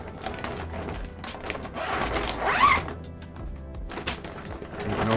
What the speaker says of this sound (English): it zips up as well.